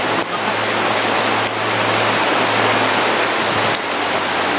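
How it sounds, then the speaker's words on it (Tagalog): Heavy rain pours down in a dense, loud, unbroken roar, with a faint low hum underneath. "Lakas yung ulan."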